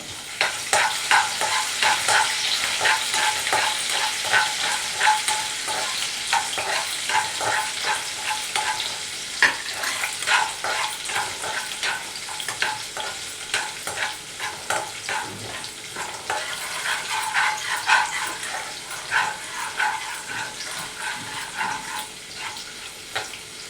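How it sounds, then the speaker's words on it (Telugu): Chopped ginger frying in hot oil in a pan for spicy chicken soup, a steady crackling sizzle with occasional stirring scrapes, close and continuous throughout. "ఇప్పుడు వేసింది అల్లం అవి పచ్చివాసన పోయేదాకా"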